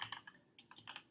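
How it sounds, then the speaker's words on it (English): Clicky mechanical computer keyboard, a quick run of sharp key presses heard close up and fairly quiet, with no voice over it. "I'm sorry about the click noise because that is my new keyboard."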